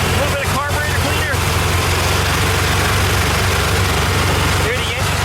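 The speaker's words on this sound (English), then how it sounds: "There, the engine speed changed." VW Type 3 engine idling roughly with a steady low rumble, speed rising as carburetor cleaner is sprayed in to check for a vacuum leak, loud and close with a voice talking over it.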